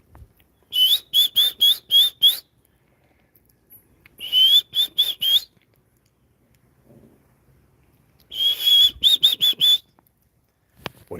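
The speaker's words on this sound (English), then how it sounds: "I hear a red-headed woodpecker." Red-headed woodpecker calling outdoors, three bursts of rapid, sharp, whistle-like notes in quick series, fairly close and clear against a quiet background with faint wind.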